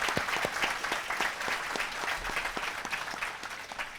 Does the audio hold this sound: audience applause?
yes